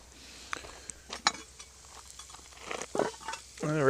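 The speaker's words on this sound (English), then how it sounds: "I'm actually browning this one a little bit more than I did the first batch" Venison stew meat browns in a cast iron pot over a wood fire, with soft sizzling under scattered scrapes and clinks of a utensil against the iron.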